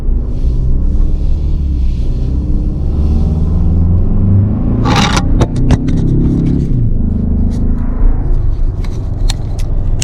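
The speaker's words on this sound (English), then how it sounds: "You hit the gas and you're going like crazy." A 2024 Toyota Tacoma pickup truck with an overland build pulls away from a complete stop, its engine rumbling loud and close from inside the cab, rising then settling, with a few sharp clicks and scrapes mid-way.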